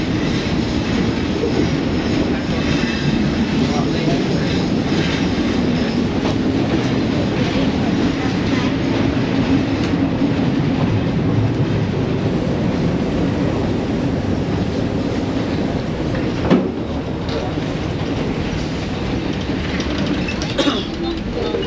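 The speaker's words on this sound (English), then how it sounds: "today we're riding the rails from Phnom Penh to Battambang, Cambodia" Passenger train running on the rails between Phnom Penh and Battambang, Cambodia, a steady loud rumble and rattle of wheels on track from inside the carriage, with a brief bump partway through.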